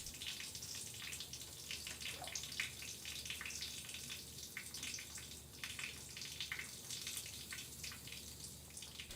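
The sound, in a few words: water filling a sink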